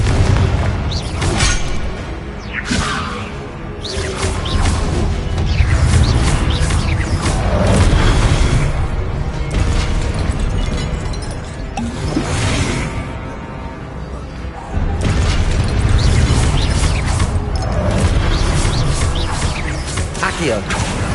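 Repeated Confringo blasting spell explosions in Hogwarts Legacy on PS5, loud booming bursts recurring every few seconds over a dense, constant bed of game combat noise and music.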